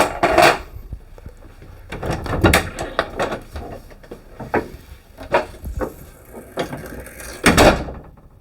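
A self-closing door swings shut on its closer in a home, with a series of close wooden knocks and clunks of varying loudness.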